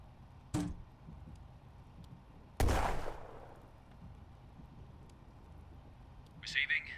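Mortar fire in the WWII tactics game 8th Armoured Brigade: two sharp blasts a couple of seconds apart, the second heavier with a rumbling decay, over a quiet ambient bed.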